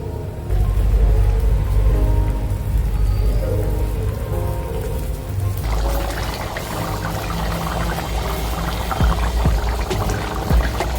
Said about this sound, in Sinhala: විනාඩි 5කට පස්සේ මම වතුර කෝප්ප 3ක් විතර එකතු කරනවා මේකට